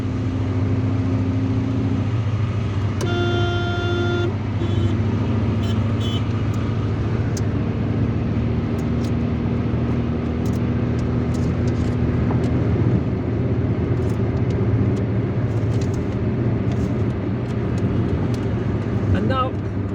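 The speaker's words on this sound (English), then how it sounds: "we are going to continue driving on this road, on this highway, National Highway 5." Car cruising along National Highway 5 in Algeria, a steady loud engine and road drone with wind noise, a brief tonal beep near the start and someone talking over it.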